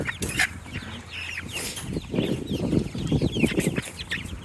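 Meat chickens cluck and squawk close by in a steady, restless jumble with occasional wing flaps, while people move about nearby.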